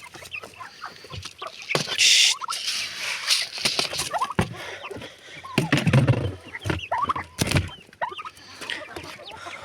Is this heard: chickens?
yes